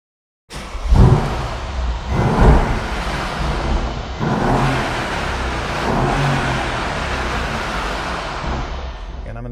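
Engine of a 2014 Mercedes-Benz E63 AMG, already warmed up, catches abruptly and revs in a couple of loud surges before settling into a steady, rumbling idle, heard close up.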